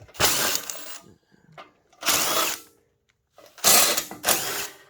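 Ratchet loosening rusty bolts on a 1977 Sears 16/6 garden tractor, three close bursts of rapid clicking and whirring separated by short silences.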